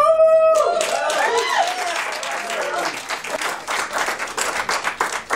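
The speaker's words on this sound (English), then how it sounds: "Give another round of applause." A live audience at a spoken word performance breaks into sustained applause, a dense wash of many hands clapping with some cheering, starting right after a line ends and continuing steadily to the end.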